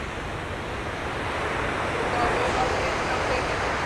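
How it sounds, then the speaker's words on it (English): Ocean waves surging against a UK coastline below a cliff-top bike trail, a steady broad wash of surf that swells slightly louder midway, with wind noise over it. "Look at the waves down there. They come thrashing up like."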